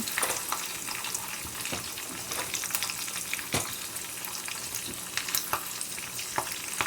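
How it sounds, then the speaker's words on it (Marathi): Curry leaves and broken chillies spluttering in hot oil for a tempering, loud crackling sizzle with frequent stirring scrapes and pops, close by and uninterrupted by speech. "छान फोडणी करून घ्यायची"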